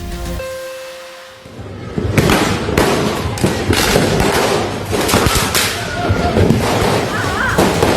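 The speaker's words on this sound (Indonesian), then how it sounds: "Perang petasan terjadi di Jalan Kerung-Kerung, Kota Makassar, Sulawesi Selatan." Rapid bursts of sharp cracks and bangs crowd together after a quiet start, loud and dense like firecrackers going off nearby in an open street, during a firecracker war on a street in Makassar, South Sulawesi.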